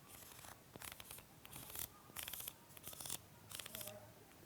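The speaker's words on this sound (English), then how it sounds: "It does have a very nice clicky aperture ring." Aperture ring on a Pergear 25mm f1.7 manual lens turned by hand, a quick series of soft, close clicks coming in several small clusters, faint and alone.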